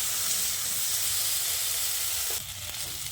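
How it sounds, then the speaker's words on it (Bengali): Potatoes fry over medium heat in a covered pan for a vegetarian okra and potato curry, with a steady, close hissing sizzle that drops and shifts abruptly near the end. "ঢাকা দিয়ে আলুটাকে আমি ভেজে নিয়েছি।"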